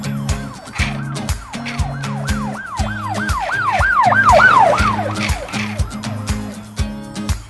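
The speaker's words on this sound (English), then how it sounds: "Blue police car with a siren on it." Blue toy-style police car siren wailing in a steady up-and-down cycle, loud and close, with a low two-tone electronic pattern repeating underneath and no talking.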